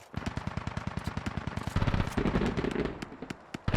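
In a Squad military shooter, a ZSU anti-aircraft gun fires rapid, evenly spaced bursts of sharp cracks, then heavier shots and booms mix in with more distant gunfire.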